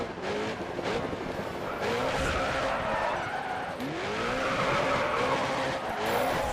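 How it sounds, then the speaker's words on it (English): Drift cars in the racing game GRID Autosport squeal and skid through corners, with repeated sweeping tire screeches over a steady engine roar, loud and close. "get some drifting in the corners here"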